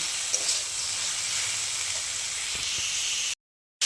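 Bottle gourd pieces fry in a pan with a steady, bright sizzle and hiss that stays even and close throughout, with a few faint clinks beneath, then a short drop to silence.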